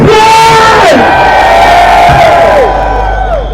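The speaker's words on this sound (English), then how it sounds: "give a big shout in this place!" A large rally crowd in the United Kingdom lets out a big sustained roar of shouts and whoops, loud and close, swelling in waves before tapering at the end.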